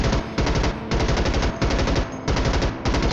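Rapid automatic gunfire at a shooting range in Starship Troopers Extermination, loud sustained bursts of machine-gun fire broken by several short pauses.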